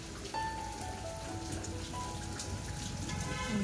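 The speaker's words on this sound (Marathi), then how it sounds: "मग तुला दिसत नाही का पाऊस?" Steady rain patters on surfaces close by as a continuous hiss, with no voices over it.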